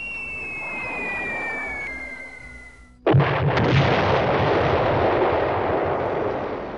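A falling bomb whistles for about three seconds in a B-17 mission sound effect, then a sudden heavy blast hits and leaves a long, loud, rumbling roar that fades only slightly.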